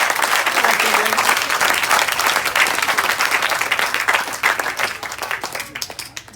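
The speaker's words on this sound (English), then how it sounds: "You can applaud." Wedding guests applaud during a best man speech, a full, loud burst of many hands clapping that holds steady and then thins out toward the end.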